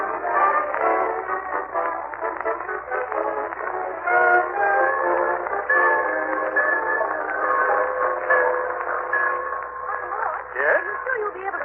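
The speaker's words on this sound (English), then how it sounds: "Gildersleeve, as he and Marjorie and Leroy wait in the Summerfield Railroad Station for the arrival" A train arriving at a small-town railroad station, staged as an old-time radio show sound effect: steady rumble with whistle-like tones and clanking wagon noise, moderately loud, filling the scene without voices.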